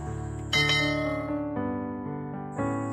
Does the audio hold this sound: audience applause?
no